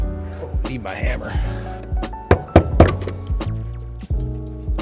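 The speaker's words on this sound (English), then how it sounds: "Oh, need my hammer." A hammer strikes a car in a workshop, giving several sharp, loud knocks in a quick burst near the middle, with a voice and steady background sound throughout.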